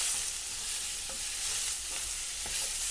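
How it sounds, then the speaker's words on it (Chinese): Spinach stir-fried in a wok over high heat, a steady broad sizzle with a few soft scraping stirs from the spatula, close and continuous with no talking. "开大火大约翻炒10秒左右就差不多了"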